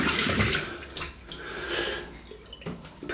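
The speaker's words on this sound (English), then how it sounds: "Just get my hands a little wash." Running tap water splashes over hands being washed at a sink after a shave, a close, steady rushing sound broken by uneven splashes.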